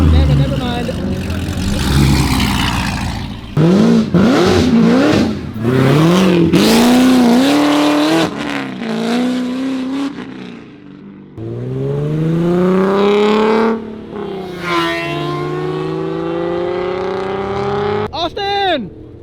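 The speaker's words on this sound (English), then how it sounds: "Hey, rev it one time." A car engine at a car meet revs hard in repeated rising and falling bursts, loud and close, with a loud crowd talking and shouting throughout.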